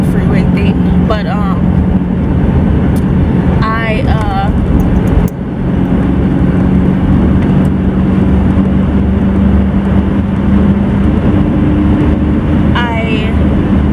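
A car drives on a freeway, its steady road and engine rumble continuous and close under a person talking.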